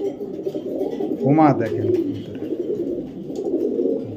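Silver fantail pigeons cooing near the listener, a short burst of throaty coos around the middle with softer bird sounds before and after, while someone talks over them throughout.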